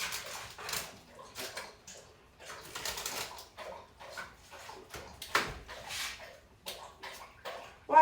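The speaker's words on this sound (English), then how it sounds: "He's always drinking and making that sloppy sound in the background." A dog laps water from a bowl in a home kitchen, a run of quick, wet slurping bursts in uneven rhythm, close by and fairly soft.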